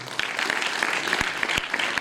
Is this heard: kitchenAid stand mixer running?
no